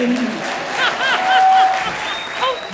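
Studio audience on a Hindi TV comedy show applauds loudly, the clapping mixed with cheering voices and a sharp whistle, steady and dense for the whole stretch.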